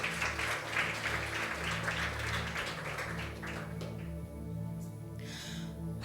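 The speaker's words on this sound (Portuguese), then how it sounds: "Você pode dar um aplauso ao Senhor nessa noite." Church congregation applauding during an evening service, a steady wash of many hands clapping at moderate distance, gradually thinning out toward the end.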